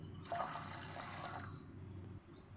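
Water pours steadily into a bowl of washed split peas (dal) for about two seconds, a soft, close, continuous trickle that eases off at the end.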